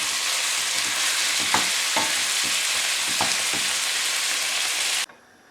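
Minced meat browns in a frying pan for a savoury pumpkin pie, a loud, continuous close sizzle broken by a few soft scraping pokes as it is broken up, then cut off abruptly.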